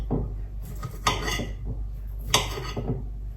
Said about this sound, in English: I am going to chop up one Russian sausage.